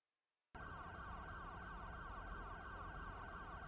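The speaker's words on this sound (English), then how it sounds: "I don't know if you can hear that siren." An ambulance siren from the Cities Skylines city-building game kicks in abruptly after a brief silence, then wails continuously and loudly with a steady repeating electronic tone.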